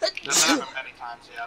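A single sharp sneeze bursts out loudly and close, followed by a person talking.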